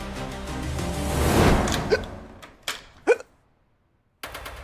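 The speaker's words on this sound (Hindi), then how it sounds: "अरे आपको तो हिचकी आ रही है, पानी पीजिए ना भाई साहब।" A man hiccups a few times, short sharp catches standing out after a louder stretch of sound, followed by near silence and then a faint return of background.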